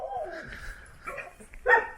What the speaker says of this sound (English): It's quiet, other than the dogs.